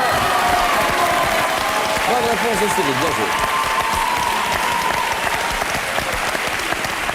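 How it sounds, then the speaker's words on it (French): Studio audience at a French TV quiz show for grandes écoles students applauds steadily after a correct answer, a dense continuous wash of clapping heard under a host's voice throughout. "très applaudie sur ce coup-là"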